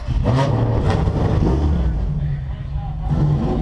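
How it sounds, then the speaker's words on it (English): Several race car engines start and rev together at close range on a starting grid, a dense, steady roar with rising and falling pitches layered over one another. "drivers, start your engines"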